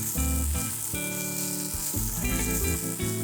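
Rinsed rice soaked for 20 minutes hisses steadily as it is sautéed in a pan for mint pulao, a continuous close sizzle under a layer of tonal background music.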